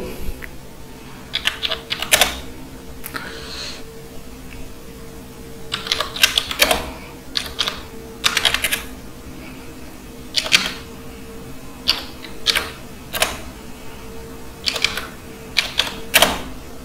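Typing Urdu text in MS Word on a computer keyboard: bursts of crisp, close key clicks in irregular runs with short pauses between them, over a quiet background with no talking.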